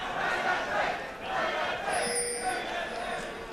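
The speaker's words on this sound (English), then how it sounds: "the crowd yelling for Fnatic" An esports arena crowd at a League of Legends semifinal cheers for Fnatic, a broad, continuous roar of yelling and chanting that swells and eases, with some voices rising above the din.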